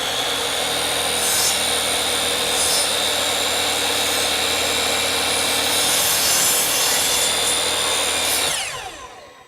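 Power saw cutting through wooden trim in a workshop, a loud, steady whining buzz held for around eight seconds before the motor winds down at the end.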